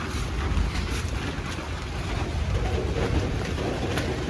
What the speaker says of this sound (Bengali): মানে এইরকম বৃষ্টি হচ্ছে।